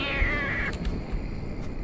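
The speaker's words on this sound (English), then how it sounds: "You're not a cat, you're a fucking spider." A spider creature in a Halloween horror video game lets out a drawn-out cat-like meow that bends downward, followed by a few short low thumps and rustles.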